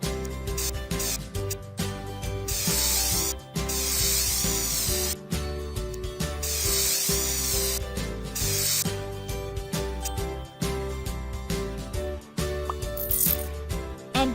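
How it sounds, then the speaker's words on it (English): In a pony care video game, cotton candy gets sprayed in repeated hissing bursts over bright, looping game music with chiming effects. "Now shake and spray it."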